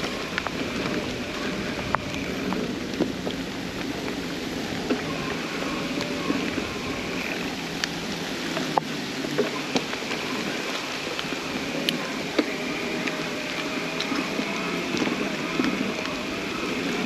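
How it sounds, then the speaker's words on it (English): Steady rain pattering on tree limbs during a 23-mile cross-country ride, a continuous broadband hiss with scattered sharper drops and light wind throughout. "Starting to rain again."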